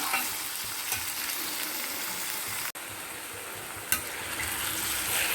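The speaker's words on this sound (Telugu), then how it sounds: "ఇట్లా వేయిస్తూ ఉండండి తిప్పుకుంటూ ఉండండి" Potato pieces frying in a pan, a dense, steady sizzle close by with a few light clinks and scrapes as they are stirred and turned.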